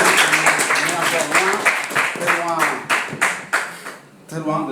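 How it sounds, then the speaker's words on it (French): An audience claps after the first round of a provincial quiz semifinal between school teams, close, distinct hand claps with voices talking throughout. "On applaudit quand même cette première partie."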